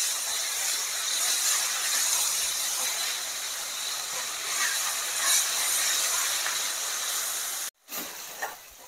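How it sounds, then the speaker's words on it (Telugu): Tomatoes and ginger garlic paste sizzle in hot oil for Hyderabadi bagara rice and chicken curry, a continuous bright frying hiss that cuts out sharply for a moment near the end, then resumes. "టొమాటోస్, జింజర్ గార్లిక్ పేస్ట్ ఇవన్నీ పచ్చి వాసన పోయేదాకా ఇప్పుడు మనము కొద్దిగా ఫ్రై చేసుకుంటాము"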